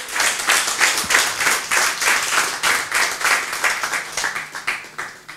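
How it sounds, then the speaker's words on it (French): Worshippers at a church service applaud in rhythmic unison, a close, loud clapping beat repeating steadily in pulses for several seconds and easing off at the end. "Applaudissez pour ceux qui ont fait cette prière pour la première fois."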